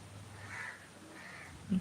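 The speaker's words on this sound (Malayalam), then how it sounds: "കാക്ക കരയുന്ന കേൾക്കണ്ടല്ലേ" Two faint crow caws sound in the distance over a soft, steady breeze.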